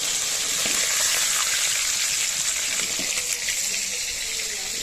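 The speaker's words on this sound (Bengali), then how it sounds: "আবার এই তেলেতেই বাকি মাছগুলো দিয়ে দিলাম" Hilsa fish pieces sizzle in hot oil in a pan, a steady hissing crackle that runs unbroken from start to finish, close and fairly loud.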